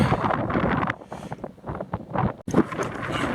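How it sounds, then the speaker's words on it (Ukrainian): Strong outdoor wind gusts buffet the microphone in an abandoned village during a metal-detecting hunt, coming as loud roaring bursts that drop out briefly before surging back. "стараюся відвертатися від вітру, тому що сильні, сильні сьогодні пориви вітру"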